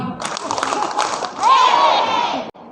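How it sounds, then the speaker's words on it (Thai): An audience at a Thai local enterprise awards ceremony claps and cheers on cue, with a short burst of clapping and shouting followed by a louder rise of crowd noise and a whistling tone. "ขอเสียงปรบมือหนึ่งครั้ง สองครั้ง สามครั้ง"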